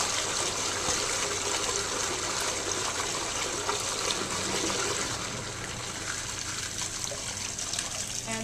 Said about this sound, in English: All that dirty water will drain.